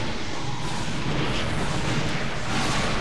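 In God Eater 2, an ape monster's explosion attack roars as a dense, loud, sustained blast that fills the whole span, with no speech heard.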